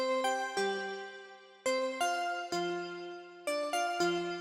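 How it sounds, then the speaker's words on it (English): Bright synthesized bell tones chime in a gentle sequence of single notes outlining chord notes, each ringing out cleanly, spaced unevenly and played alone. "So the next thing I wanted to add was some bells,"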